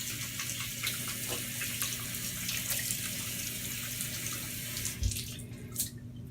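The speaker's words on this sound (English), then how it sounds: "I'm just gonna wash my hands." Hands are washed under a running tap, a steady soft stream of water pouring into a sink with light splashing as the hands move, fairly quiet and close with no talk.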